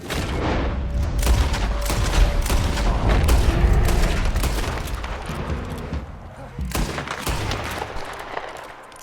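Gunfire in Red Dead Redemption 2: a sustained, loud fusillade of overlapping shots and booming blasts, dense through the first half and thinning into scattered reports later, with voices heard faintly in the mix.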